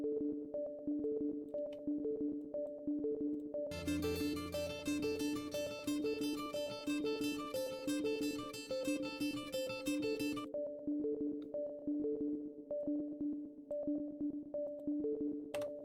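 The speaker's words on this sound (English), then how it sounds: "which is the Tin Can Audio patent pending Sega Mega Drive blips" Bright chiptune synth blips in Sega Mega Drive style burst in over a steady repeating synth loop, rapid stepped notes dotting around for several seconds before cutting out, leaving the quiet loop pulsing alone.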